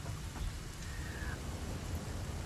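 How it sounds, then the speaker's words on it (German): Steady rain in the video game Satisfactory, a continuous soft hiss of drops spread evenly across the clip, moderately loud with no talk over it. "Es regnet."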